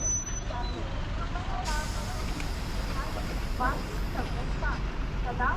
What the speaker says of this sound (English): I think this is our bus, judging by the commotion.